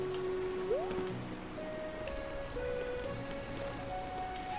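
Steady rain in the video game A Hat in Time patters softly and continuously under faint game tones, with no voices present.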